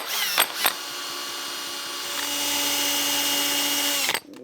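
Rotary tool contouring a metal wedding ring fitted tightly on a ring mandrel, a steady high whine after two brief starts, continuous and close, then cutting off abruptly near the end.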